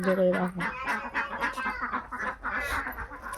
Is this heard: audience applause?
no